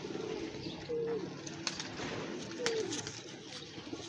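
Domestic pigeons coo softly nearby, with two short, distinct coos about two seconds apart over a quiet background of faint rustling and occasional light taps.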